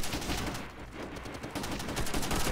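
Rapid automatic gunfire in a World War II shooter video game, loud dense bursts and shots overlapping continuously throughout, close and unbroken.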